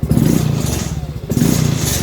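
A stock motorcycle engine runs steadily up close with a rhythmic chugging idle and mechanical clatter, on a bike with a broken clutch spring and a defective brake shoe that keep the rear wheel spinning.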